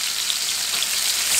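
Fish and steaks searing in a hot frying pan give a steady, close hiss and crackle of frying that continues without a break and without voices.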